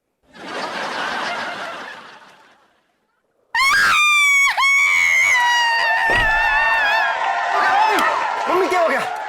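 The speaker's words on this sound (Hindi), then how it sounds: "मम्मी आप क्यों चीखी?" A woman in a TV comedy episode lets out a loud, sustained high-pitched scream, followed by laughter and chatter from other voices.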